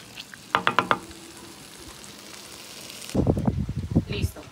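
Red onion sizzles in a hot pan while being stirred for a Sonoran cazuela, a soft frying hiss under two distinct bursts of close scraping and clattering from the spoon.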